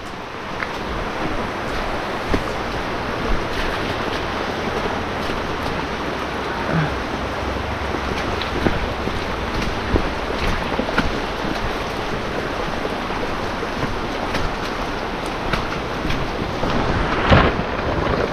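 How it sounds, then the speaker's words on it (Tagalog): A flooded river rushes in a constant, loud broadband roar, with wind buffeting the microphone and no voices throughout. "Baha na yung ilog."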